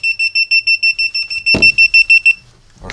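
A cheap handheld live wire detector gadget emits a rapid run of loud, evenly spaced high beeps, with a brief clatter in the middle before the beeping resumes and stops.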